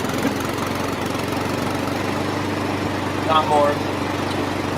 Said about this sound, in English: It's a lawnmower running.